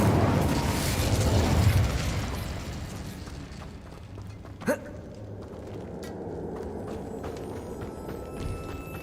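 Incendio fire spell cast in Hogwarts Legacy, a sudden burst of flame crackle with a sharp whoosh and pop partway through, set against steady game ambience.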